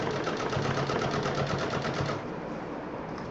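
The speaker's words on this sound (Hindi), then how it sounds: "नीचे से कपड़ा हटाते जाएं, सिलते जाएं।" A sewing machine stitches fabric for a multi-utility bag, running as a steady rapid mechanical whir with rhythmic needle pulses for about two seconds before it stops and only faint room noise remains.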